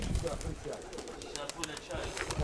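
Pigeons coo outdoors among a local pigeon keeper's flock, low soft calls repeating under close, ongoing conversation between several people.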